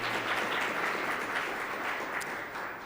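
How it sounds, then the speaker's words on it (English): Steady, dense applause from a large audience, a continuous wash of many hands clapping at an even level for a few seconds, then easing slightly. "Let's give them a round of applause for their joining us here today."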